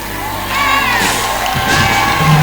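A church congregation at a healing service erupts in loud, close cheering and shouting, a dense mix of voices rising and swelling over a few seconds.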